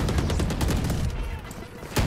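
Rapid gunfire in a video game, a fast burst of many sharp shots in a rattling string, close and loud, followed by a final louder shot, with voices faintly under the shooting.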